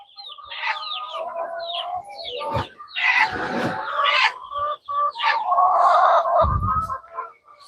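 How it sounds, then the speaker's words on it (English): A nesting bird with eggs, perched up in the rafters, gives a run of mournful, wavering calls. The cries are loud and close, with brief pauses between them and no talking over them. "We got a bird making sad noises,"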